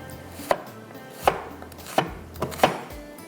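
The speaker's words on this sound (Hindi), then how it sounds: "छोटी सी एक प्याज ले लीजिएगा, इसको हम बारीक बारीक चॉप कर लेते हैं" A knife chops a small onion finely on a cutting board in a kitchen, giving four or five crisp, evenly spaced thuds over faint background hum.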